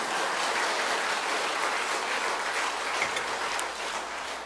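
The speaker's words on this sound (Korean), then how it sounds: "박수를 치려면 똑바로 칩시다" A congregation at a Korean church festival service claps together, a dense, steady wash of applause that holds evenly throughout and eases slightly at the end.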